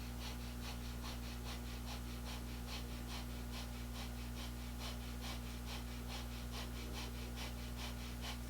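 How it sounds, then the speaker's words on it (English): Breath of fire in a kundalini yoga session, with rapid, rhythmic, evenly paced puffs of breath through the nose, quiet and steady over a constant low hum, with no talking. "and begin breath of fire."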